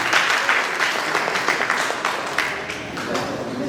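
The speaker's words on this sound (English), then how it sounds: "Can you clap for her?" A church congregation claps at a field inauguration event, a dense wash of applause that fades slightly, with a few voices mixed in.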